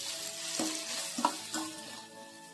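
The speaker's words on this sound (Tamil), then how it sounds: "கொஞ்சம் ப்ரௌனாக வர வரைக்கும் வதக்கிக்கலாம்." Onion, tomato and masala are sautéed in a pan, with a steady soft sizzle and a few close scraping stirs over about two seconds, and no voices.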